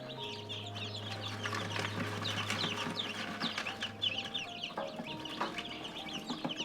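Many American Bresse chicks peep continuously in a dense, busy chorus, with high chirps overlapping throughout alongside a steady low hum in the background.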